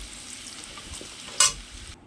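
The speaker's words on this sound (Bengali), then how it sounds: "একদম লাল লাল করে আলুটা ভাজা হয়ে গেছে" Potatoes frying in oil in a karahi for mutton curry give a steady, soft sizzle, with one sharper burst of crackle partway through before it cuts off.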